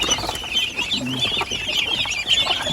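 Chickens on a farm clucking softly as they peck at fallen food beneath a feeding spot, a continuous busy chatter with light wing rustles and scratching, fairly close and without any talk.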